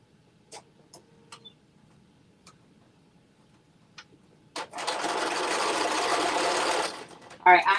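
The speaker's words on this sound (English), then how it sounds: "I am just sewing on the pockets right now" A home sewing machine stitches pockets onto Butterick jumpsuit pants, starting after a few faint ticks and clicks and running in one steady, fairly loud whirring burst for about two seconds before stopping with a couple of sharp knocks.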